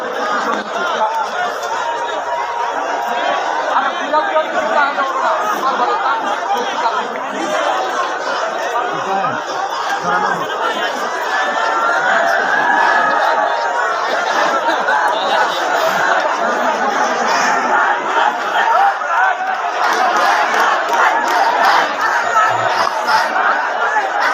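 A large procession crowd arrives at a BNP rally stage in Raipura, Narsingdi, with a steady, dense wash of many voices chattering and occasional laughter rising throughout.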